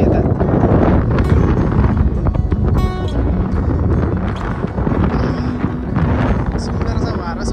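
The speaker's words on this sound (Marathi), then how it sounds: "सुंदर असा वारा सुटलाय." Strong wind gusts across an open lakeside by Powai Lake with buffalo resting in the mud nearby, a steady low rumble of buffeting air against the microphone throughout, with people talking over it.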